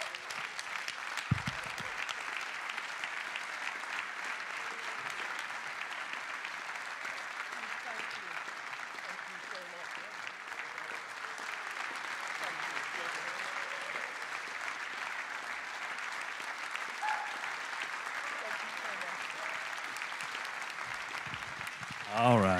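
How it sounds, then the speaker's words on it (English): Sustained audience clapping at a UK drum show, steady and fairly distant for over twenty seconds, with a few voices and brief sounds near the start and end. "Stop clapping or I'll start crying,"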